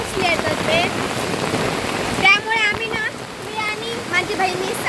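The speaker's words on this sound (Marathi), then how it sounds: "तर आता जोरदार पाऊस लागता." Steady, heavy monsoon rain pours down in the Konkan region in a continuous hiss, with high chirping calls breaking through now and then.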